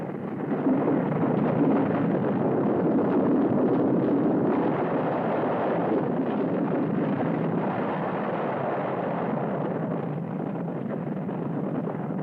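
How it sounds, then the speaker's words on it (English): High-altitude mountain explosion in a monster movie, heard as a sustained, loud roaring rumble like a massive blast and rushing wind, steady and unbroken throughout. "An explosion at high altitude. The mountain is going to blow up."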